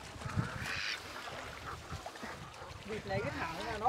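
Ducks caught in a mountain village in Ha Giang give faint quacks and honks amid busy talk and background noise, the calls scattered and partly masked by voices.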